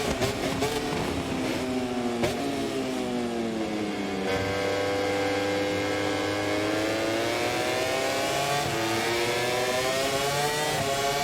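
Motorcycle engine revving steadily in the MotoGP 24 racing video game at the Italian Grand Prix, a loud continuous whine with rising and falling pitch as gears shift, running throughout without talk.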